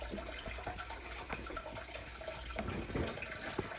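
Running water splashes steadily over a freshly gutted bluegill being rinsed out at a sink, with a continuous broadband wash and small irregular splashes throughout.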